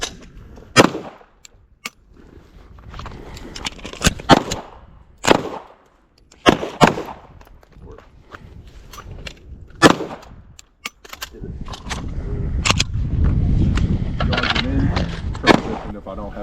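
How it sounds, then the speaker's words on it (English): Rifle gunshots at a shooting training class, sharp cracks scattered over the clip at irregular intervals, with people talking between the shots and a louder stretch of rustling and voices toward the end. "So we're going to shoot the rifle."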